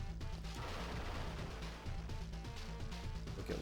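Repeated booming blasts and crackling bursts from an explosion in The Adventures of Batman & Robin on the Sega Genesis, thudding over layered game music in a dense, continuous run.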